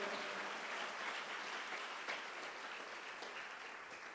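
A church congregation applauds steadily during a family seminar service, a dense, continuous wash of many hands clapping at moderate volume that holds throughout and eases slightly toward the end.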